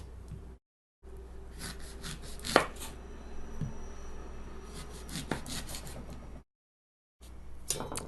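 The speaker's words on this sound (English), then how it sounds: "I'm just going to literally like cut the cheeks off of the pear" Knife slicing the cheeks off a pear for a kale salad, with a few soft cutting and rubbing strokes close up, one sharp crisp cut standing out, broken by brief silent gaps.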